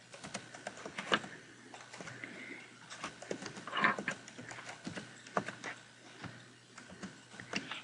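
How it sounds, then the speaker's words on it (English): Quiet clatter of fingers typing on a computer keyboard, soft irregular key taps with a few slightly louder presses, steady and unhurried throughout against a faint room hum. "So I'm going to type that in."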